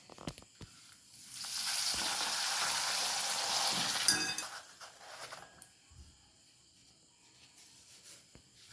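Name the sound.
pappadam frying in hot oil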